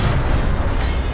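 The Incendio fire spell goes off in Hogwarts Legacy, a loud, dense whooshing roar of flame with a low rumble that holds steady for the whole moment.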